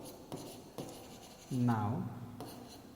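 Pen strokes scratch out handwritten numbers for a primary-school money subtraction sum, a few short brushy strokes spaced apart beneath a teacher's speaking voice.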